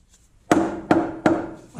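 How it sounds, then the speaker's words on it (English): Three sharp, solid knocks from a rubber hammer striking the oil sump pan of a Land Rover 300TDI, evenly spaced and close by, each with a short dull ring, with no talking. "give it a tap with the rubber hammer"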